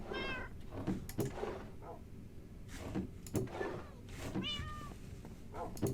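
A cat meowing in the Minecraft video game, several short meows spaced across a few seconds over low background game noise, fairly close and clear.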